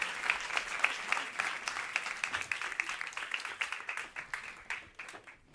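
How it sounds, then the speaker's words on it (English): An audience applauds with a burst of dense clapping that gradually thins and fades over a few seconds. "Give him a round of applause."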